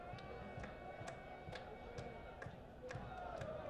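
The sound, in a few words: sports crowd cheering at soccer match, Regal Stadium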